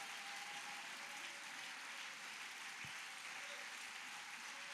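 A church congregation applauds in a continuous, dense wash of clapping that holds steady and fairly faint throughout.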